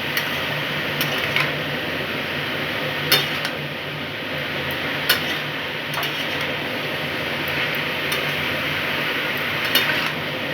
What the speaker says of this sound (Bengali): দিয়ে আমি লাউয়ের সাথে একসাথে একটু ভেজে নিচ্ছি